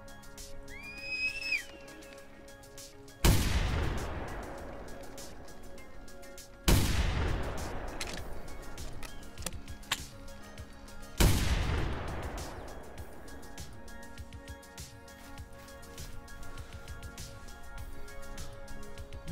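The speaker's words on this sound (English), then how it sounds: "I'm hunting the rock ptarmigan with the 12 gauge side by side engraved shotgun." A 12 gauge side-by-side engraved shotgun fires three loud, sharp booms several seconds apart in the video game theHunter Classic. Each shot rolls off in a long echo across a mountain setting, and a whistle-like bird call sounds faintly before the first shot.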